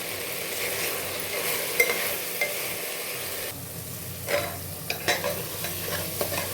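Mutton sizzles in a pan as it is stirred with chili powder, giving a soft, steady frying hiss broken by scraping and clinking spoon strokes against the pan.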